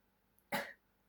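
A single short, close cough from a person with a tickle in the throat, one sharp burst that tails off quickly in an otherwise quiet room.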